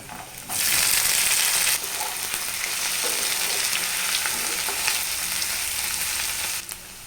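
Boiled potatoes and chopped onion drop into a hot pan, setting off a loud burst of sizzling that settles into a steady, close crackle with occasional spatters.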